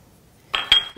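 A utensil clinks twice against a bowl while Swerve brown sugar is stirred into a keto pecan filling. The sharp, brief taps are close and follow quiet.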